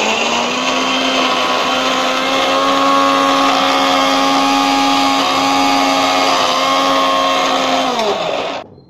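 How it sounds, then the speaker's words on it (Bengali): An electric kitchen mixer grinds soaked chickpeas with coriander leaves and onion for falafel, a loud, steady whining motor drone that holds for about eight seconds before spinning down abruptly. "আমার মিক্সারে গ্রাইন্ড করা হয়ে গেছে।"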